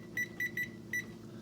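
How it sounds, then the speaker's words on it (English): A kitchen timer gives four short, bright electronic beeps as it is set, the first three fairly evenly spaced and the last after a slightly longer gap, close by in a quiet kitchen with a low background hum and no talking. "we're going to set our timer for 10 minutes"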